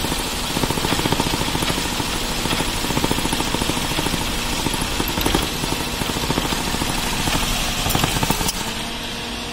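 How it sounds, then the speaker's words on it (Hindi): Maruti Alto 800 engine running rough with the AC switched on, a steady loud mechanical drone with a rapid shaking vibration throughout, close up and with no talking. "इंजन ऐसे वाइब्रेट होगा तो कुछ सेकंड बाद गाड़ी बंद हो जाएगी।"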